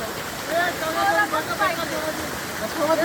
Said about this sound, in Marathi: या ठिकाणी खूप जास्त धबधबा चालू आहे